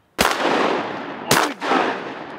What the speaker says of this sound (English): Justin, you want to shoot a Drake Spoonie?